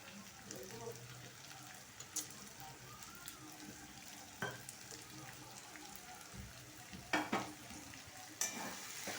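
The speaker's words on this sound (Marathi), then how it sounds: "आता कांदा चांगला परतून घेऊया" Two large chopped onions sautéing in a pan, a soft continuous sizzle with occasional sharp scrapes and clinks of a spatula, moderately quiet and without talk.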